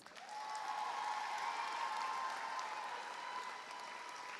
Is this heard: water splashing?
no